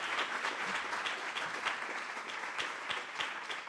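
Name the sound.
audience applause at a celebration event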